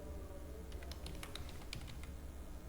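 Soft clicking keystrokes on a computer keyboard come in a quick irregular run, faint and close, with no talking over them.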